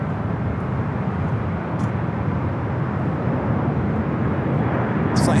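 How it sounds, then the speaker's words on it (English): An Air Canada Airbus A220-300 roars steadily at LAX, a loud broadband jet rumble that holds even throughout with no talking. "Air Canada, Airbus A220-300."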